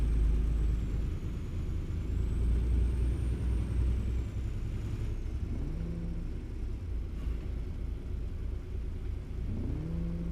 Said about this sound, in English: Whose truck is that? It's so loud.